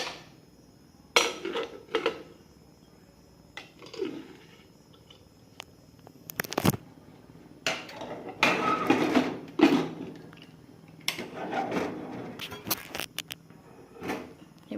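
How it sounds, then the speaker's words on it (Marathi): A pressure cooker lid is clamped shut while paneer pulao cooks on a kitchen stove: scattered metallic clanks and clatters of the lid and pot, with short bursts over quiet gaps and no talking. "आपण कुकरला झाकण लावून घेऊयात"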